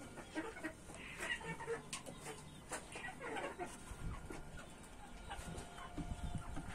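Chickens cluck on a farm where fowl are bred, a steady busy layer of clucks and rustling throughout, with someone talking over them.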